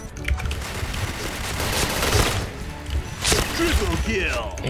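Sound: P90 gunfire in Point Blank video game

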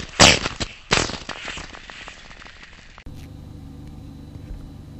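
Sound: Storm 360 gas airsoft grenade detonating on a path

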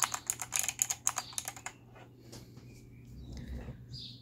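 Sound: SteelSeries Apex 5 keyboard arrow key presses

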